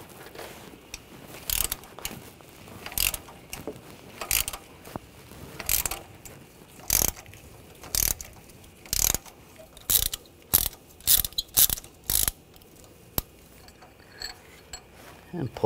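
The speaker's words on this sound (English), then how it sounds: "we're gonna remove the spark plug" Ratchet wrench with a spark plug socket loosening a spark plug on a 2.5L Nissan Rogue, heard as repeated short bursts of clicking, about a dozen close-up ratchet strokes spaced unevenly with brief pauses between.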